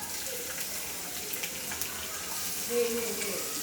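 Garlic fries with cumin in hot oil for a tempering, giving off a soft, continuous hiss at low volume with a faint brief squeak near the end.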